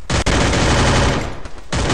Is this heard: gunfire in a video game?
yes